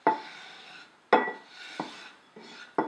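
Whisking a powdered milk mixture in a bowl: a few sharp clinking strikes of the whisk against the bowl, each trailing into a ringing, scraping stir, close and fairly clear with no talking.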